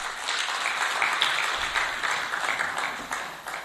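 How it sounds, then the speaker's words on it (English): Steady, dense audience applause fills the room after a discussion session at a formal event, holding at an even level throughout without a voice on top. "Let's give him a round of applause again."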